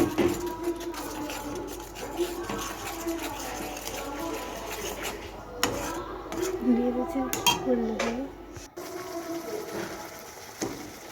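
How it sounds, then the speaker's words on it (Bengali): Chicken biryani ingredients with biryani masala being stirred in a home kitchen pot, with steady scraping and clinking of a spoon against metal throughout, fairly close, ending abruptly near the end. "ভালো করে নেড়ে চেড়ে"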